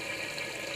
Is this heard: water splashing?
yes